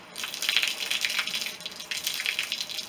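Water gushes and splashes in uneven bursts over a colour-changing umbrella, a bright, hissing patter that swells and fades several times at close range, with no talk.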